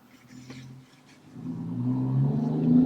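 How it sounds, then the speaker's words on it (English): A loud truck passing outside, its engine rumble rising from faint to loud and building steadily toward the end, heard alone without talk. "Sorry about that loud truck."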